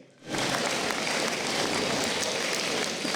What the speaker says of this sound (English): Give them a rousing applause, gentlemen